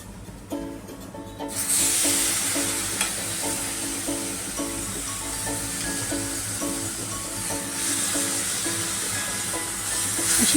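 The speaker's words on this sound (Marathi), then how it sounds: "अशी थोडीशी भाजी टाकून आपण परतून घेऊया चांगलं." Vegetables are stir-fried in a pan with softened onion and spice powders for a traditional Maharashtrian colocasia leaf dish. A steady close sizzle continues throughout, with pitched tones repeating over it.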